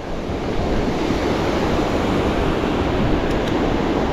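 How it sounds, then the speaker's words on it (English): A river rushes below a trail bridge near Truckee, a dense, steady roar of water without a break, close and loud. "River rushing below us"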